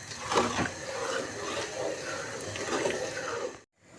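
A pot of thick blueberry jam bubbling and popping on the stove, soft gurgles and spits over a steady low hiss, close by.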